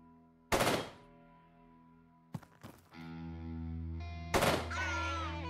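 A powerful weapon fires in the video game Quasimorph: two loud, sharp shots a few seconds apart, each followed by ringing, humming game sound effects and a brief mechanical clatter in between.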